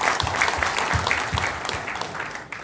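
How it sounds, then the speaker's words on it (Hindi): Loud, dense applause from an audience at a company leaders' event in Guwahati, Assam, sustained clapping for nearly three seconds that eases slightly toward the end, with no talking over it. "एक बार जोरदार तालियां सर के लिए।"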